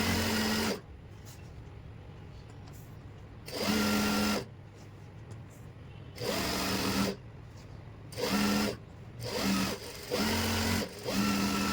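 An electric sewing machine runs double stitching along a pant hem in several steady whirring bursts of a second or two, separated by a lower background hum, close and loud with no talk.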